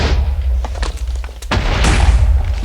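A bomb from the More Explosives mod in Minecraft detonates in a heavy, booming burst, followed by rumbling crackles and a second swell of deep blast noise, loud and close with no talking.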